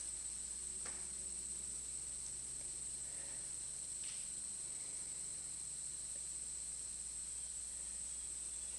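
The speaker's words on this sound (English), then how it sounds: "are we aware of the crickets, or are they just the crickets?" Crickets chirp in a steady, high continuous trill across the whole stretch under a low background hum, with a few faint knocks and rustles in a quiet indoor setting.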